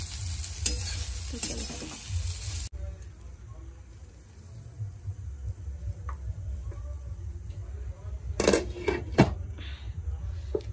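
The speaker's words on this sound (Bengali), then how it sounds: "এদিকে আলু ভাজাটা নাড়া হয়নি, একটু দেখো লাল লাল ভাব হয়ে গেছে।" Potatoes sizzle in a frying pan with repeated scraping stirs of a utensil, the crackle steady and close, and a few sharper stirring bursts near the end; a voice is faintly present.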